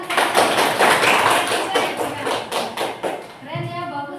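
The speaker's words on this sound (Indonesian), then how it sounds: "Tepuk tangan." A classroom group claps hands in irregular bursts of sharp, close claps that fade out, followed by a voice speaking at the end.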